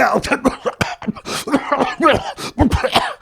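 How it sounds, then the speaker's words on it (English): Bursts of harsh, repeated coughing up close, coming in rough fits with short breaths between them. "I just start coughing uncontrollably"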